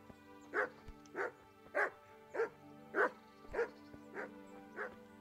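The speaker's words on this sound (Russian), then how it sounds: "Собаки." Dogs bark in a medieval video game: about eight evenly spaced, fairly close barks over a low steady ambient hum, with no talk.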